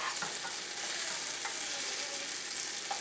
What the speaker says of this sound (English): while that's sizzling still